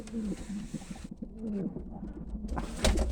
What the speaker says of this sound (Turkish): Ha, kuşlarımız burada.